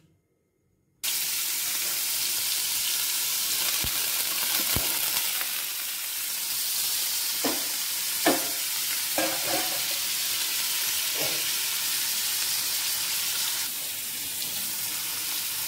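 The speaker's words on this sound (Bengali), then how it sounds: "খুব হালকা হাতে পনিরগুলোকে ভেজে নিতে হবে।" Paneer pieces sizzle steadily in a hot pan, a continuous close frying hiss with occasional clinks and scrapes of stirring, after a brief silent start.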